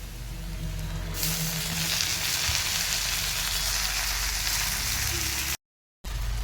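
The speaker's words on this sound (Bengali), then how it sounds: "এবার শাকটা দিয়ে দিব।" Freshly picked kalmi (water spinach) greens hit a pan of fried onions with a sudden loud burst of sizzling after about a second. The steady hiss continues up close, breaks off briefly near the end and then returns.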